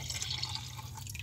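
A green solution from a CPU gold-recovery process is poured through a polyester filter, giving a faint, steady patter of liquid trickling and dripping with a low background hum and no voices.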